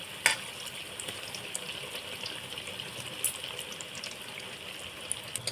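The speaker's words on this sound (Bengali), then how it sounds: "আমার এই বেগুনিগুলো ভাজা হয়ে গিয়েছে" White brinjal fritters (beguni) from homegrown white eggplant deep-frying in oil in a wok, a steady close hiss and crackle with a brief clink of a utensil near the start.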